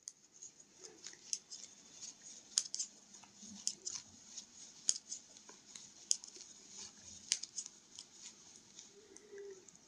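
Scissors snipping knitting yarn while a child's pom-pom beanie is knitted: soft, faint, scattered clicks of the blades over a quiet room, close by.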